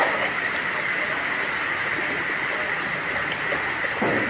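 Rainwater rushes and splashes steadily, a loud continuous broadband wash of flowing water with no pauses across the short stretch.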